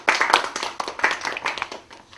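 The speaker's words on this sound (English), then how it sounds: "Please clap for boys." Children in a classroom during a grammar lesson clap for the boys, a short burst of brisk, fairly near handclaps that tapers off after about two seconds.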